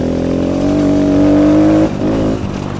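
A Kawasaki KLX 110 dirt bike, which has no clutch, revs hard with a loud, steady droning engine note held close by, then drops off and picks up again briefly, with no voices.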